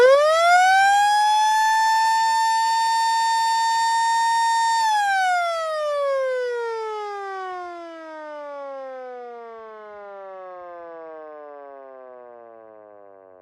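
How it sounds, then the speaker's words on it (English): A loud, high-pitched electronic siren, a Vixen Horns VXS-8100, holds a steady wail, then winds down slowly in pitch and fades, sounding alone. "that's what this siren sounds like"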